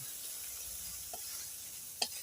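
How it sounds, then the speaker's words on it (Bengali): Spices and potatoes stir-fried together in a pan as the masala cooks down: a faint, steady sizzle with a couple of soft scrapes from the spoon, one louder clink near the end. "আলুর সাথে মশলার সাথে ভালো করে কষাই নেবো"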